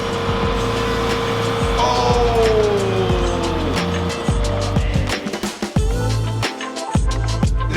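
A modified Lexus backs slowly up onto a ramp with a close engine rumble and tyres squeaking and scuffing in short bursts. Thumps and clatter break in near the end.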